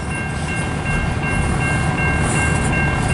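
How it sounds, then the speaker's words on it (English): A long CN stack freight train rolls past close by, producing a loud, continuous rumble and rail clatter with steady wheel noise throughout. "This train's long. There's the end right there. It's a stack."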